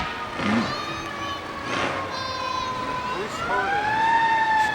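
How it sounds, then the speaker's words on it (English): A restored American LaFrance fire engine built for teaching children fire safety sounds its siren at a holiday parade, a loud wailing tone rising and falling steadily, with faint crowd voices underneath. "And now a restored fire engine designed for teaching children fire safety."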